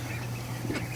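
Ducks on a free-range farm pond quack briefly at moderate distance over a low steady hum, one short burst of calls near the end.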